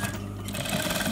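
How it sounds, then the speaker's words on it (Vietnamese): A sewing machine stitching in a replacement jacket zipper runs in a fast, steady mechanical whir close by, with a brief pause early on and a voice talking over it. "Và các bạn may lên đến đây."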